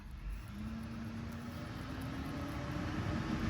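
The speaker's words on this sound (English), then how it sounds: "There's a truck going by. It's loud." A truck rumbles past outdoors, a steady loud low drone that slowly builds and holds, with no talking over it.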